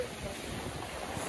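Heavy rain beside a swollen waterfall in Bantwal at night makes a steady, dense broadband roar with wind buffeting the microphone, constant and fairly faint, with no talk.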